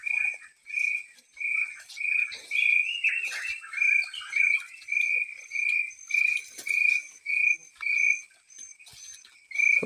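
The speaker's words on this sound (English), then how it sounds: "Hope you are enjoying the environment and the sound of birds." Rhythmic, evenly spaced chirping calls repeat steadily around an Igbo village in Enugu, Nigeria, with fainter high twitters and light rustling behind and no talk.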